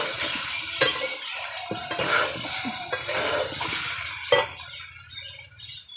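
Jackfruit and potato curry with sugar being stirred in a pan, a close, rhythmic scrape of a spoon against metal over a soft sizzle, with a few sharper knocks and no voices.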